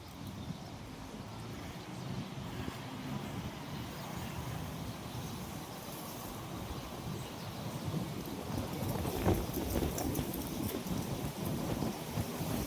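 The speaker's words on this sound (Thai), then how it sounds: "ฝนตกแล้วครับ" Steady rain pours down, a soft continuous hiss that grows slightly heavier toward the end, with faint rumbling beneath and no voices.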